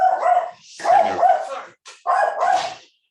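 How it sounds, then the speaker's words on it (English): A dog barks in several loud, close bursts, with brief pauses between the barks. "there's my dog"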